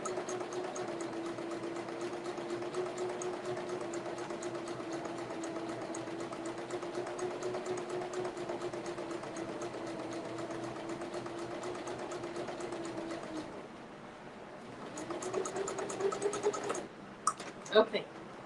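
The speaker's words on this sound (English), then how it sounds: "I am really enjoying this little sewing machine." Small sewing machine stitching a strap for a child's purse, a steady fast mechanical whir running for about thirteen seconds, then stopping, followed by a brief restart and a few clicks and handling sounds nearby.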